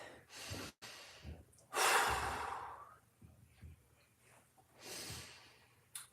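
Slow, audible breaths during a quad stretch: a few soft inhales and long sighing exhales, close and quiet, with a light nasal snort, no talking.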